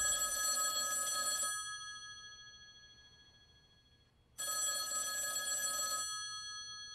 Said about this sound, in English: First, that phone over there is gonna ring.